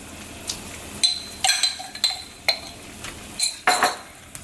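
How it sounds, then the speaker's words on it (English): Shrimp paste being mixed into a boiling caramelized garlic sauce for prawns in a pot, with a series of short metallic spoon clinks and scrapes against the pot over a soft background bubbling. "We can mix that up."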